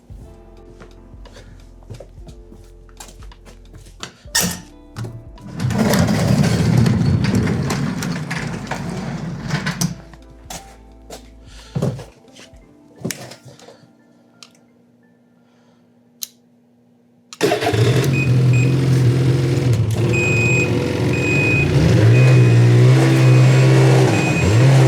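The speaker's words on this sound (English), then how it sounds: "I'm gonna run it, give it a little cold start, do some revs" A BMW E46 starts cold on a frozen winter day, with a few short revving blips and quieter gaps before the engine settles into a loud, steady idle close to the microphone.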